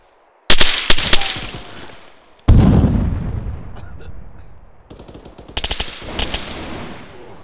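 Loud bursts of automatic gunfire from a military shooter game crack in separate volleys, with rapid rifle fire at the start, a heavy blast or boom midway, then another rattling burst near the end.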